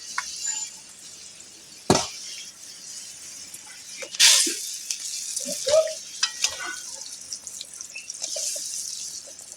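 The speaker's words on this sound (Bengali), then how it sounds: "গ্রেভি ফুটে গেছে, দিয়ে দেবো ভেজে রাখা মাছগুলো।" Fried silver carp pieces dropped into a pan of boiling gravy, giving a sharp splash and hiss followed by bubbling, sizzling and a few scraping stirs, close by.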